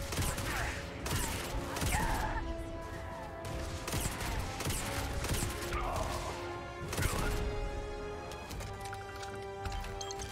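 A shotgun fires repeatedly in the video game Starfield, sharp blasts cracking out at irregular intervals over a steady humming, tonal game backdrop.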